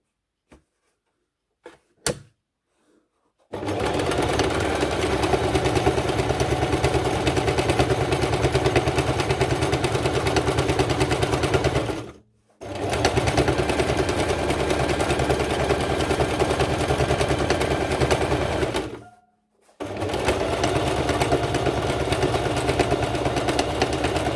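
A sewing machine stitches fabric in three long continuous runs, each a steady dense whir, separated by short pauses, with a few faint clicks at the start.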